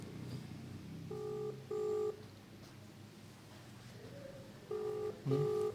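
Dual-tone keypad beeps of a phone call being dialed, two short bursts of tones, a pause, then two more, close and clear over a low room hum with no talking.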